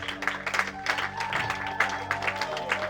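Church congregation at a sermon clapping and cheering in praise of God, uneven bursts of handclaps and raised voices over a sustained organ or keyboard chord, with a few scattered shouts.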